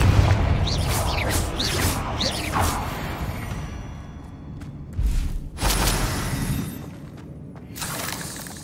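Confringo blasting spells burst in Hogwarts Legacy, a series of booming, crackling explosions with whooshing spell casts, several heavy impacts clustered early and two louder blasts near the middle, amid dense game sound.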